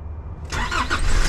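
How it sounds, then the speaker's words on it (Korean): A car engine cranks and catches after sitting unused for two months, settling into a close, steady idle after a brief start burst. "2달 동안 시동을 한 번도 안 켰는데 이렇게 깔끔하게 시동이 걸린다고?"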